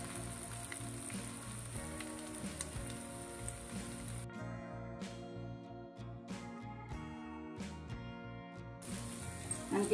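Turmeric and ginger garlic paste fry in oil for an egg brinjal curry, a faint crackling sizzle heard beneath background music that drops out midway, with no voices.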